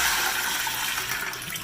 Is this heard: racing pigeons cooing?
no